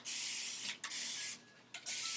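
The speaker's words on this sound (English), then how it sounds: "I'm gonna spray this with some water just at like the top and on the roots" A spray bottle mists water onto hair roots in three bursts: two quick hissing sprays close together, then a longer spray, each a sharp, close, airy hiss separated by short pauses.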